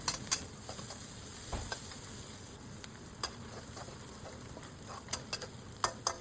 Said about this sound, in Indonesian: Lanjut ditumis kembali sampai bumbunya agak kecoklatan tapi jangan sampai garing ya.